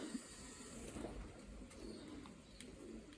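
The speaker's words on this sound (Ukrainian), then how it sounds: "Троє голубів осталося." Pigeons kept in a loft coo softly and faintly in the background, with low, steady murmuring and no talking.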